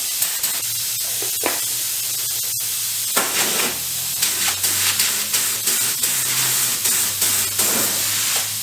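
A clogged paint spray gun hisses in uneven bursts, sputtering on and off with short pulses and brief pauses, close by and fairly loud.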